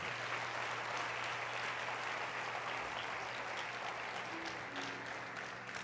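Church congregation applause during a Spanish-language sermon, a soft, distant wash of steady clapping lasting several seconds, with no voices over it.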